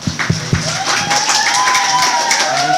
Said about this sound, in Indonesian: monggo bisa minta tepuk tangannya untuk kita semua.